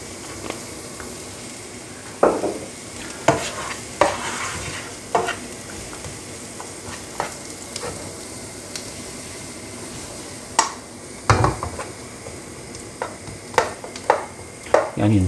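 Onions fry in oil in a pan for a spinach and chickpea curry, a soft continuous sizzle broken by repeated scraping stirs and utensil knocks at irregular intervals, close and fairly quiet.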